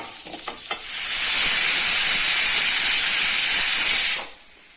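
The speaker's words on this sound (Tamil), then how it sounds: "மூணு விசில் வந்துருச்சுங்க அடுப்பு நிறுத்திடலாங்க" Kitchen pressure cooker on the stove blowing off steam while cooking coconut milk rice, a loud, steady, high-pitched hiss-whistle that builds after a second, holds for about three seconds, then cuts off abruptly.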